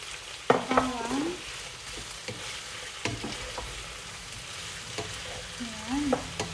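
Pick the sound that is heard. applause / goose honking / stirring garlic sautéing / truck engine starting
stirring garlic sautéing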